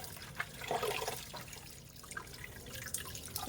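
Rice is washed by hand in water before lunch is cooked in a home kitchen, with soft sloshing, swishing and dripping sounds up close.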